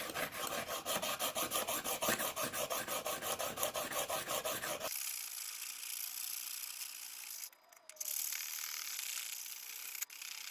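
An S30V Leatherman blade is drawn over a Lansky sharpening system stone, giving fast, regular rasping strokes for about five seconds, then a softer, steady scraping rub that runs on alone.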